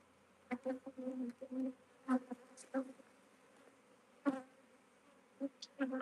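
Honey bee swarm buzzing in a bramble thicket, dense droning hum with repeated louder swells as bees pass close to the microphone, no talking.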